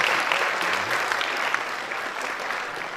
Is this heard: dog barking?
no